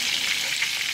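A swai fish fillet fries in hot oil in a pan, giving a steady, close, dense sizzle that holds without a break.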